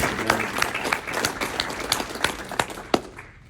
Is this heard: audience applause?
yes